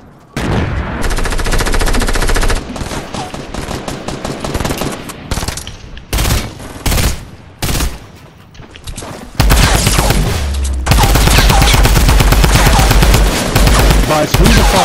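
Rapid automatic gunfire from the video game Fortnite rattles almost without pause, loud and dense, with bursts stopping and restarting and heavier volleys near the end.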